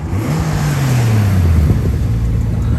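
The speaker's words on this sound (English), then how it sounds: "There's nothing that beats the sound of a 2JZ single turbo." A Toyota Supra with a single-turbo 2JZ engine, loud and close, revving up and then dropping in pitch before settling into a rough, droning idle.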